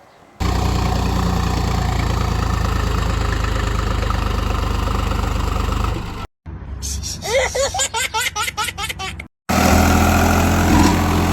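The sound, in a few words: tractor engine running while stuck in soft sand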